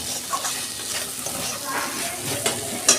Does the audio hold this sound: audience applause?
no